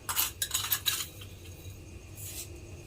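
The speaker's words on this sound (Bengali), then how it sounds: "নুন আর চিনিটা দিয়ে খুব ভালোভাবে মিশিয়ে নিয়েছি।" A spoon clinks and scrapes against a pot while stirring salt and sugar into homemade tomato soup, a quick burst of metallic taps that fades into quieter stirring.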